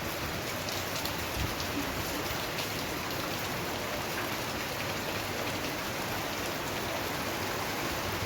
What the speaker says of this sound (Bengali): সরি কলের না, ছাদের জল পড়ছে, পাস হচ্ছে। যেমন হাওয়া হচ্ছে তেমন বৃষ্টি।